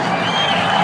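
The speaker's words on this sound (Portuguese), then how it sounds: "Olha a galera gritando, incentivando a Catinga pro recorde mundial." A brief burst of crowd cheering and shouting from spectators at a swimming final urging on a world record attempt in the 400m medley, dense and continuous.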